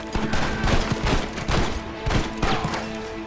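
Gunfire in the Red Dead Redemption western game, a loud, close volley of repeated shots and booming reports in an irregular rhythm over a few seconds.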